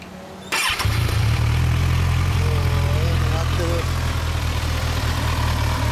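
A 2014 Kawasaki Ninja 1000 fitted with a Yoshimura exhaust starts with a sharp crank and catch, then settles into a loud, deep, steady idle heard up close. A voice speaks briefly under the engine.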